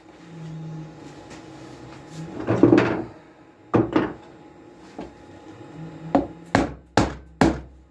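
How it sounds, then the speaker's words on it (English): A wooden boat part is knocked into place until it sits flush, with a scraping shove followed by a run of sharp, hollow wooden knocks that come in separated single blows, loud and close. "So I'm going to knock the front end in a little bit and flush her off"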